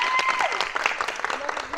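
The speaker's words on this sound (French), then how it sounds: "Et on s'applaudit!" A group at a summit dance session applauds themselves. There is a short burst of clapping mixed with excited voices and cheering, close and lively.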